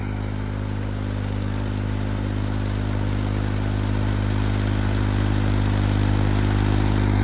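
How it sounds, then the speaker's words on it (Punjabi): A tractor engine drones steadily and loudly nearby while pulling a plough, its low, constant rumble straining under load without pause. "ਜ਼ੋਰ ਤਾਂ ਬਹੁਤ ਮਾਰਦਾ ਜੀ ਟਰੈਕਟਰ"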